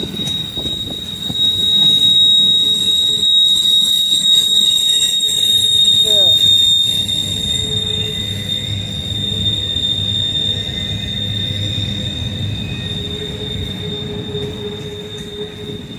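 A freight train hauling empty container cars rolls past near a Bluefield rail yard, a loud steady rumble of wheels with high sustained squealing throughout.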